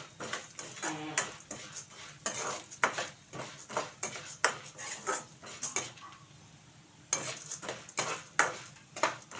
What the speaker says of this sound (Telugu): చక్కగా దోరగా వేయగాలన్నమాట కలుపుతూనే ఉండాలి